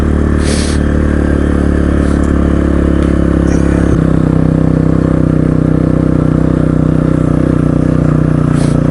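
A Kawasaki KLR motorcycle rides along a road of snow packed into thick ice by a tractor, its engine droning loud and close with steady rumble, clattering and scraping from the tyres and wind.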